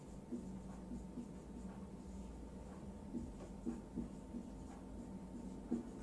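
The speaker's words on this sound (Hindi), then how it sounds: "मैं यहां लिखता हूं" Marker or chalk scratching across a classroom board in short, quiet strokes, soft and close, with faint room hum and no talk.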